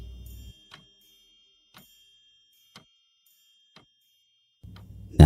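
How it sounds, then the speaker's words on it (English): Ticking clock motif from the Sheep Tag 2 game soundtrack: four sparse, evenly spaced ticks about a second apart in near silence, framed by low music at the start and end. "The ticking of a wall clock is replaced with the ticking of an alarm clock on a bedside table."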